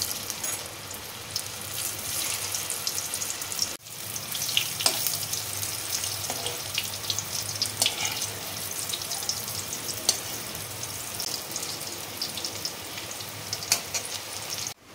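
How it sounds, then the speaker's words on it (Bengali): Banana balls bound with gram flour fry in hot oil, a steady close crackling sizzle with scattered pops and a brief dip partway through, no talking. "এবারে আমি তেলে ভেজে নেবো। কলার বলগুলো দিয়ে দিচ্ছি।"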